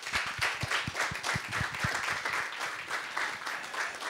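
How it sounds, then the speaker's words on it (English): A short burst of audience applause at a climate-change and wildfire management event, dense clapping from a crowd heard close and steady, alone without talk. "I think we will give them a short applause."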